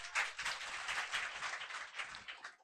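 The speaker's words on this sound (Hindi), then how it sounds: "एक बार इनके लिए जोर से ताली बजा दीजिए हो" A classroom audience bursts into brief, dense applause, a busy patter of many hands at moderate distance that fades out abruptly near the end.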